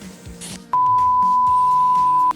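Electronic notification chime from an aftermarket module fitted to a Toyota Avanza: a short ding-dong followed by a loud, steady tone held for over a second and a half, close and clear with no talk.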